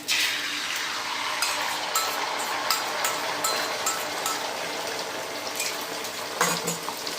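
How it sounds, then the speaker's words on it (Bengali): Beaten egg fries in hot oil on a flat griddle with a loud, even sizzle and scattered crackles throughout. "তেলটা গরম হলে ডিমটা আমি ভেজে নেব।"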